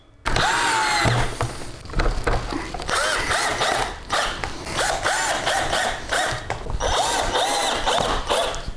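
Screws are driven into the lid of a Harley touring motorcycle tour pack, giving repeated close whirring bursts from a power driver with brief pauses between them.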